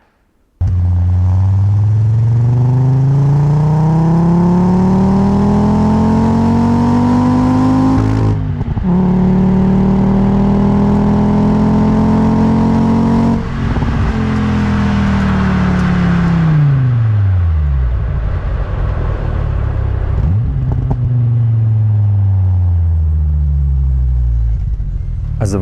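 A VW Golf 3 with a VR5 five-cylinder engine revs hard and close, with repeated long pulls that rise and then drop back between throttle blips, loud and uninterrupted.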